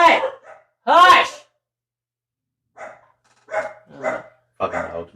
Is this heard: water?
no